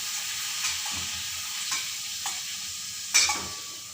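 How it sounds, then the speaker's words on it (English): Soft sizzling of papadams frying in hot oil, with a few stirring scrapes and clinks against the pan. "Nice yummy papadams that we are frying."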